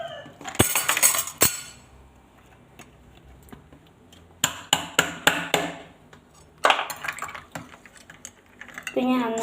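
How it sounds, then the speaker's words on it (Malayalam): Ice cubes clatter and clink into a glass of milk sharbat in sharp separate knocks, followed by a quick run of rhythmic stirring taps against the glass and a louder jumble of clinks near the end. "നമുക്കിനി ഐസ് ക്യൂബ് ഇടാം കേട്ടോ."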